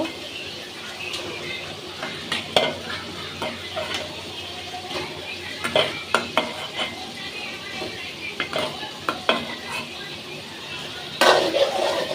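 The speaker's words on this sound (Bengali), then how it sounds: "এখন আমি এর মধ্যে কচুটা দিয়ে দিব" Taro is stirred into fried spices in a pot, giving a soft sizzle under scattered scraping and knocks of a spoon against the pot, close by, with a louder clatter near the end.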